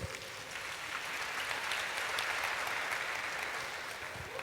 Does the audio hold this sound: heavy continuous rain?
no